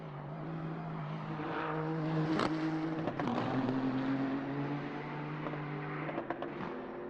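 A McLaren GT3 race car at Bathurst in Assetto Corsa drones loudly with a sustained engine tone, pitch shifting through gear changes, with a few sharp clicks and no one talking.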